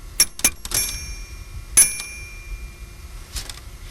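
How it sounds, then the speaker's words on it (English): Toy doorbell struck repeatedly, giving several sharp metallic rings in uneven bursts, clustered near the start and then spaced out, close and bright over a quiet background. "the doorbell."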